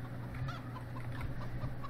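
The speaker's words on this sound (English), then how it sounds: "let's have a quick check-in with the chickens" Chickens clucking on a farm in Farming Simulator 17, soft scattered clucks over a steady low engine-like drone, faint and somewhat distant.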